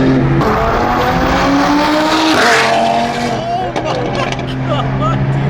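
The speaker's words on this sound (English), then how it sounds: "God damn, that bike is going." A motorcycle speeds past at a busy car meet, its loud engine rising and then fading as it passes close by, with other vehicles and excited voices in the background.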